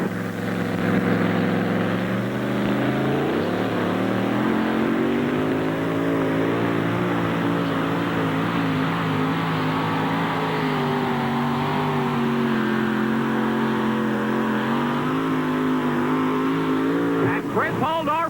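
A Ford or Chevrolet two-wheel-drive pulling truck roars loud and sustained down a dirt pulling track at a Tomah, Wisconsin national event, the engine note rising and wavering throughout.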